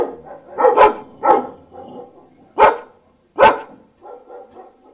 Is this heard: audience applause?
no